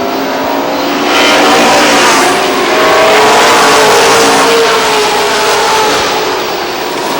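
Race cars running a qualifying race at Lee Speedway, New Hampshire, engines roaring loudly and continuously as the pack passes close by, swelling and easing with no talk.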